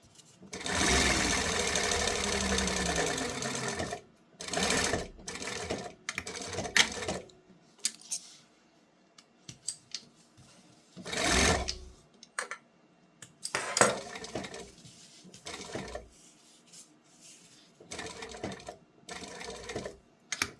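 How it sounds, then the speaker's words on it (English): A sewing machine stitches a fabric accordion wallet at a quarter-inch seam, running in several short bursts of rapid clatter with quiet pauses between them. "we're gonna sew at 1/4 inch seam allowance"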